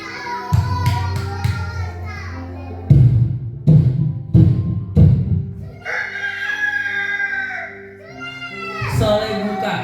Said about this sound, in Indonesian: Soleh bangun dari tidurnya karena Soleh mendengar suara ayam